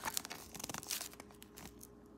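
A bag of baking soda being opened in a kitchen, a brief close burst of crinkling and tearing plastic rustle, loud at first and then trailing off into quieter handling.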